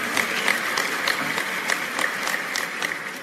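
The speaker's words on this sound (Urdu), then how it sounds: "کچھ تالیاں آپ کے اپنے لیے کہ آپ آئے ہیں" Sustained applause from a large audience at a religious lecture gathering in Canada: dense, even clapping that fills the whole stretch at steady loudness, with no voices over it.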